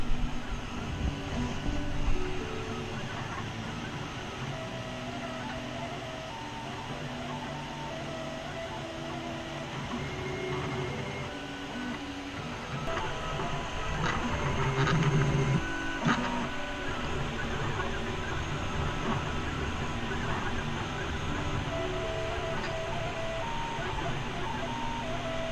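A 3D printer printing bike spoke decorations hums and whirs continuously with shifting stepper-motor tones and faint clicks, steady and close throughout in an indoor room.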